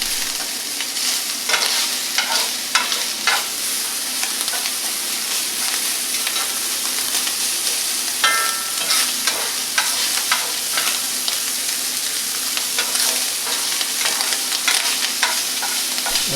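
Ground meat broken up and stirred while frying in a pan, with a loud continuous sizzle and repeated scraping of a utensil against the pan, close and steady throughout.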